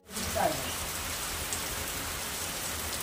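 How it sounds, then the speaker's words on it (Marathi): Steady evening rain falls over a village at the start of the monsoon, a dense, continuous hiss of drops on surfaces all around, even and unbroken from start to finish. "मला वाटतं आज काय जास्त असं पडणार नाही पाऊस."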